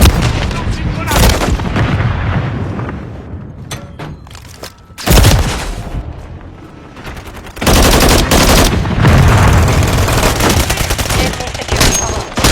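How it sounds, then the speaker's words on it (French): Gunfire in a first-person shooter game, dense loud bursts of automatic fire and sharp cracks that stop and start, with a short quieter gap before heavy continuous shooting resumes. "Je me fais tirer dessus."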